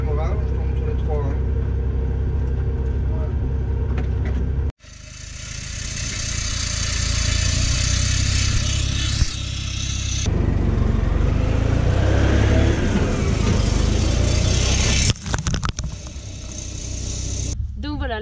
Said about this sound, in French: là j'ai démarré l'épandage. Je roule à 10 km/h